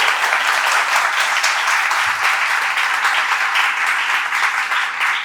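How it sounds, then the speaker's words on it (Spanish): A church congregation applauds in a steady, dense wash of clapping that holds loud and even for about five seconds, with no talking over it. "¿Por qué no le das un aplauso al Señor ahí donde estás?"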